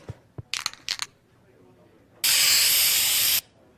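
A spray paint can gives a steady, loud hiss of about a second as regular bullets are painted silver in a cartoon, after a few short clicks and metallic taps.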